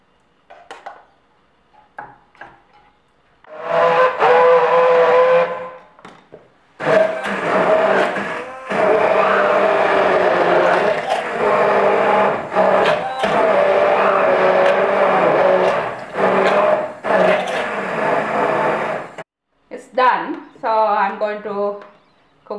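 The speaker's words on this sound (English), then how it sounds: "I'm going to use my stick mixture to grind it" Stick blender grinding curry sauce for chicken curry in a jar, a loud steady whirring drone in long bursts with short pauses, ending in a few brief pulses.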